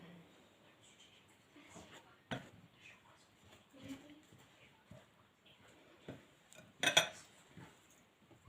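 A spoon scrapes and taps in a bowl while natural yogurt is mixed into flour for homemade tacos, with quiet scrapes and a few sharper clinks against the bowl at close range.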